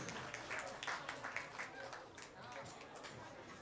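An audience at a youth wind band concert claps in a soft, distant burst of scattered applause that thins out over a few seconds.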